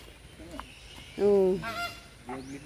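Herons or egrets at a safari park give loud, harsh honking calls, one strong squawk standing out among fainter cries, with people talking nearby.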